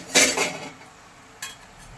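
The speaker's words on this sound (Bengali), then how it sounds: "এবার ঢাকনাটা একটু খুলে দেখব" A metal lid is lifted off a cooking pot of a vegetarian bottle gourd dish, giving a loud clattering clank followed by a fainter second clink a moment later.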